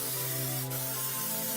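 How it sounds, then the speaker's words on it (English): Cooking spray hisses onto a baking pan in a short, steady close-up burst over a faint background hum. "I just like to use cooking spray. So coat it generously"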